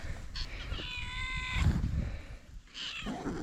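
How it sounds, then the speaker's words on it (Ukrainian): A cat meows once in a village, a drawn-out tonal cry, followed by rustling and shuffling noises nearby. "Знову кіт."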